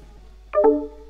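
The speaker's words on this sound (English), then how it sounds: "that's the sound of Xbox disconnecting" An Xbox party disconnect notification plays during a Roblox Granny session: two quick rising electronic tones, the second held briefly, clear over a quiet low hum.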